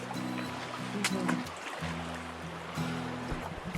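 A creek on the Upper Priest Lake Trail rushes and burbles steadily in the foreground while people talk over the flowing water.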